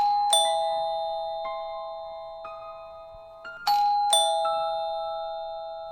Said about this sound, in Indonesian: terdengar bunyi bel rumah, ada yang memijit